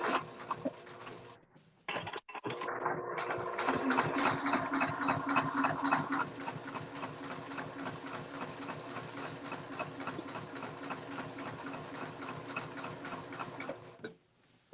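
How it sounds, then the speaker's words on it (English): A Juki TL18 straight-stitch quilting sewing machine runs, its needle ticking in a fast, even rhythm close by after a few brief starts and stops, then halting near the end. "I have a Juki TL18. So it's a straight stitch like quilting machine"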